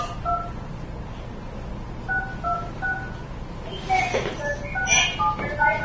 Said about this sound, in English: we're going to try dialing in on the phone to get to the audio